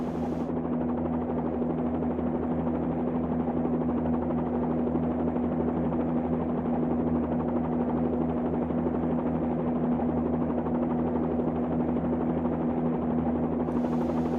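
Bell 47-2G helicopter in the Flyinside flight simulator game, hover-taxiing along a paved area: a steady, loud rotor and piston-engine drone with a constant hum runs unbroken throughout, without talk.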